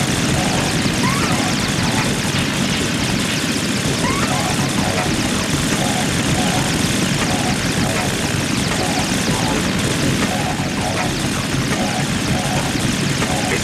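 A Harrier jet in Metal Gear Solid 2 roars loudly and continuously, its engine drone steady and dense for the whole stretch, with someone talking over it.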